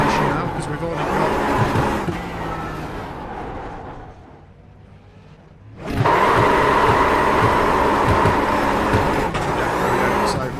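A race car in iRacing doing burnouts: a loud, sustained engine roar that dips briefly into a quieter lull midway, then surges back to full, steady howl until the end.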